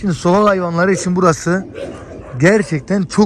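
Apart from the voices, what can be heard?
None of the usual background noises is heard.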